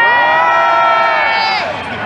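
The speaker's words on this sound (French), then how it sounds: "je vois bien donner un applaudissement s'il vous plaît." A crowd of young fans at Paris Games Week 2015 cheering and shouting together, a loud, close, sustained roar of many voices that fades slightly toward the end.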